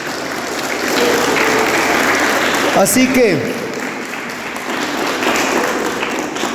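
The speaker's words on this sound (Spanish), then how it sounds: "Dele un aplauso a su Damasco" A congregation at a charismatic prayer meeting breaks into broad applause, a dense roar of clapping that swells and holds for several seconds while a voice speaks over it.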